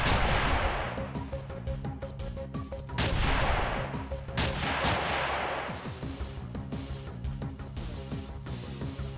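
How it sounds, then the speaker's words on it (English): Repeated mortar blasts and gunfire from a pirate-themed strategy game, a dense run of sharp, loud booms and crackling volleys with three big surges, close and continuous for the whole stretch. "That's a regular mortar, not a nuke mortar."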